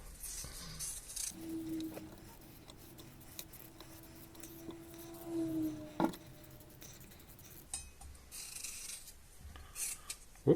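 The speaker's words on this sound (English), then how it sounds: "while I'm on the chopping board, I'll peel these potatoes also" Potatoes being peeled by hand on a chopping board in a home kitchen, giving soft intermittent scraping and rasping strokes with small taps against the board, close up, over a steady low hum.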